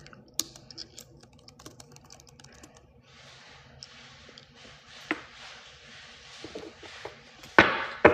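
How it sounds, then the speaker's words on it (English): Rapid, irregular clicking of fingers typing on a computer keyboard, close and fairly quiet, ending with a couple of louder, heavier keystrokes. "I'm just trying to type something real quick."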